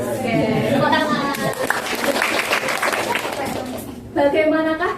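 A class of young children in a microteaching lesson claps their hands together in a short, busy burst beneath loud chatter and a teacher's voice, with children's speech returning once the clapping fades.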